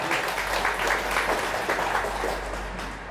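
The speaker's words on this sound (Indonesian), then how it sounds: "Tepuk tangan untuk Indonesia, Pak." A crowd applauding steadily, dense clapping that holds for a few seconds and eases slightly toward the end.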